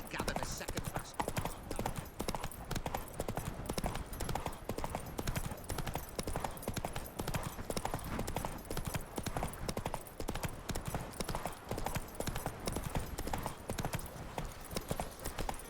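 Horse hooves clip-clop in a steady, even rhythm throughout in The Witcher 3: Hearts of Stone, a continuous close trotting cadence that never pauses.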